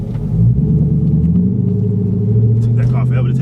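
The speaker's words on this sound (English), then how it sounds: "Took that car forever to take off." A car fitted with an aftermarket Carven exhaust gives a loud, close, steady low rumble that builds as it slowly pulls away, with faint talk near the end.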